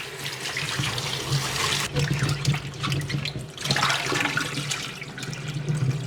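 Water runs from a kitchen tap over vegetables being washed in the sink, a continuous close splashing rush with brief changes as the produce is moved under the stream, and no talking.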